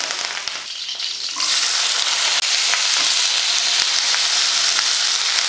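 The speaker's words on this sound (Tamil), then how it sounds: "கூடவே கொஞ்சம் கருவேப்பிலையும் போட்டு கொஞ்சம் அந்த லைட்டாக இந்த பச்சை வாடைக்காக வதக்கிக்கலாம்." Garlic and curry leaves go into hot oil in a pan, and a quieter sizzle swells into a loud, steady crackling sauté with a faint scrape or two, heard close up and without talk.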